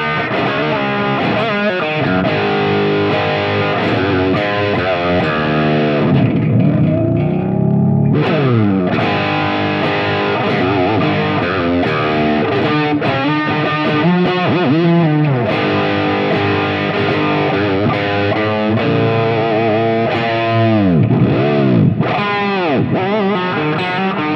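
Charvel Super Stock SC1 electric guitar played through overdrive with a swirling chorus-type effect, a loud continuous distorted riff with sweeping pitch bends and choppy rhythm chords across the whole stretch, no talking.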